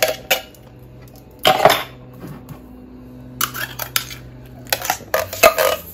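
Drained canned beans going into a crock pot for turkey taco soup: a few separate bursts of metallic clinks and scraping clatter, close by, with quiet gaps between and no talking.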